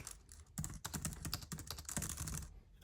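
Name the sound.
Tibuta Masterpad W100 keyboard keys clicking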